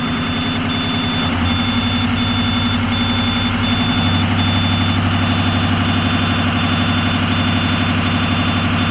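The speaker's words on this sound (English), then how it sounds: "Give me some throttle. Go up and hold it about 1500." A 2007 International 4200 truck with an oil leak that had sat unused for over five years, its engine held at about 1500 rpm, a loud, steady, close-up drone that rises slightly partway through, with a constant high whine.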